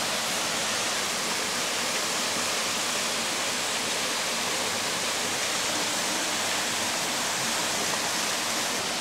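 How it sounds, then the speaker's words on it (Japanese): Nobuta Falls along Route 25 in Nara flows calmly in a steady, broadband wash of falling water, close and even throughout with no voices. "今まで何回も来てるけど一番穏やかな野毛の滝やわ。"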